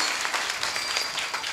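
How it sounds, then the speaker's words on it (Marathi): An audience at a devotional kirtan performance claps loudly for the cymbal players. A dense, continuous wash of many hands clapping together holds steady from start to finish. "या सगळ्या टाळकऱ्यांसाठी एकदा जोरदार टाळ्या वाजवा"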